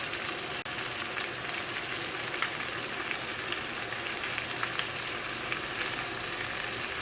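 Chicken curry with yogurt sizzles in a pan for a restaurant-style thick gravy, a soft, steady frying hiss that is fairly quiet and continuous, with no voices.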